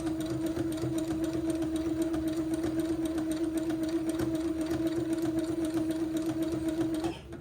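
A sewing machine zigzag-stitches fabric, catching a fold and an entredeux ladder for a baby layette, with a steady, close mechanical whir and fine rapid ticking that runs continuously and then stops just before the end.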